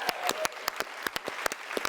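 Studio audience applauding during a TV medical talk show, a short burst of crisp, scattered hand claps close in.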